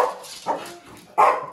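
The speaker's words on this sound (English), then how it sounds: "two dogs barking at me." Two dogs barking close by in three short, sharp yaps spread across the moment, the last one loudest, with nothing else heard around them.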